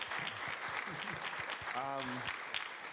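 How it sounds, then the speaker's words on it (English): Audience applause for the panelists at the close of a panel discussion on working from home, a steady wash of clapping through the whole stretch, with a brief voice or tone rising above it midway. "Can we please give a round of applause to our panelists?"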